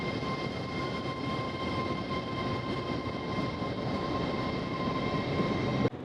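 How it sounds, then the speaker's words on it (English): An LNER train departs York station for Edinburgh, a continuous loud rumble and steady hum rolling on without break, ending in a sudden cut. "And there goes the LNER off to Edinburgh."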